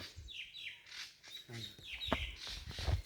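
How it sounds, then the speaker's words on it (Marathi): Small birds chirp and tweet in short, repeated calls in a forest at dusk along a dirt trail near Padargad on the Bhimashankar trek, with light rustling and low background noise between calls. "पक्ष्यांचा आवाज आहे."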